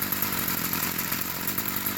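A chainsaw idles steadily and alone, a close, continuous motor drone with a buzzy rattle and no change in pace.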